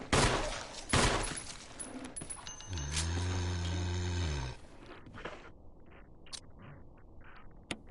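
Gunfire in Resident Evil, with a couple of sharp blasts up front and a sustained roaring, droning noise in the middle, followed by quieter scattered clicks and thuds.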